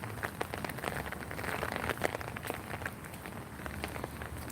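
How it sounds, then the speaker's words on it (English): Steady rain falls in Korea, a dense patter of drops hitting surfaces close by, continuous and moderately loud with no voices. "Wow, it keeps on raining."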